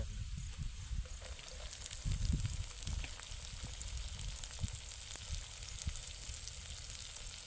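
Chopped onions, with ginger already in, hit a hot pan outdoors in a field, giving a steady low-level sizzle and crackle with occasional stirring bumps.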